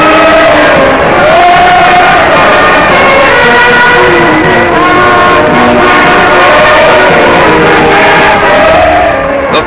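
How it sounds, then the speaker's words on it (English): A frenzied crowd of Father Divine followers in 1930s Harlem cheers and shouts in a loud, continuous roar, with rising and falling voices blending into one dense wall of sound. "The frenzied crowd is welcomed by Paul Christian, Divine Disciple number one"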